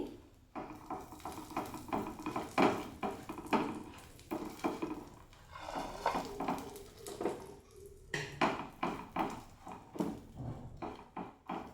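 Dry fruits roasting in ghee in a pan for date modak: a spatula repeatedly scrapes and knocks against the pan in an irregular, steady rhythm, close and moderately loud, with no talking.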